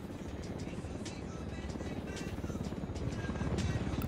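A helicopter in the video game Ghost Recon Wildlands gives off a steady low rotor thrum under a dense layer of gameplay noise, with faint voices mixed in.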